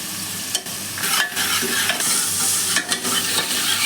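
Sliced onions fry in hot oil for a potato curry, a loud, close sizzle broken by repeated stirring scrapes and clatters of a spoon in the pan, with no talking.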